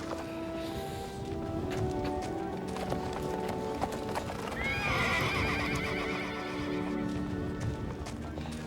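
Horses whinny loudly nearby while hooves clip-clop on the ground, with a prominent neigh rising midway over a background of steady movement.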